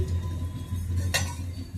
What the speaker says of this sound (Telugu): ఇది చూడండి, రెండో గిన్నె కూడా పెట్టాను.